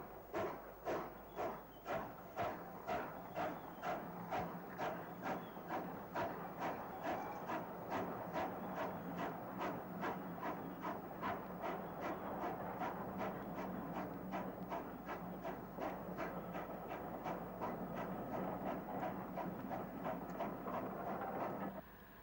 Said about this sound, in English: 4993 Dalton Hall leaves platform 7 on the 7 p.m. stopping service to Weymouth via Bath and Westbury.